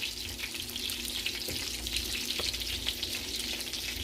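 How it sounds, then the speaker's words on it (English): A quiet, steady sizzle from a hot pan as white wine vinegar goes in while cooking a cheesy hashbrown and Angus beef meatball casserole, a soft even hiss with a couple of faint clinks. "I'm going to add a little bit of white wine vinegar."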